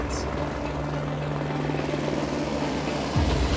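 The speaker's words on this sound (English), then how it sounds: "there's a helicopter. That's the helicopter." A helicopter drones steadily from start to finish, close and loud, with a low rotor hum over outdoor wind and ambient noise, and a brief rise in level near the end.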